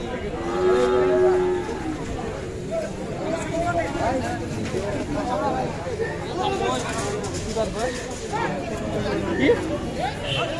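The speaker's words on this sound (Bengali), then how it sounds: "আরো গরু এসেছে এদিকে" Cattle moo loudly at a busy livestock market at the railway market in Dinajpur, with drawn-out lowing calls rising over continuous crowd chatter and people talking nearby.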